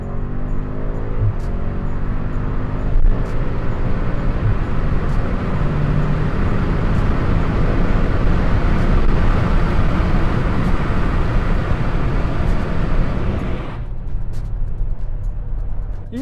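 A BMW M5 F90 accelerating at full throttle, a loud, sustained engine roar with a rising drone and brief shift breaks, cutting off sharply near the end into quieter road noise.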